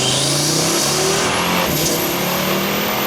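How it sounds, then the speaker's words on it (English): Audi RS3/TTRS five-cylinder turbo engine fitted with a Unitronic 4-inch turbo inlet elbow, loud and close as it revs hard under acceleration, with a rising whine sweeping upward partway through. "This is what it sounds like with the 4-inch turbo inlet elbow in the"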